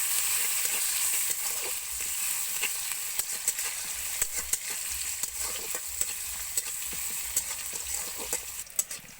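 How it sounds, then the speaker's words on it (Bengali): Chopped onions with a pinch of salt fry in a pan, giving an even, continuous sizzle with frequent small clicks and scrapes of stirring, heard close up with no voices. "দিয়ে পেঁয়াজগুলোকে ভালোভাবে ভাজা করে নিতে হবে।"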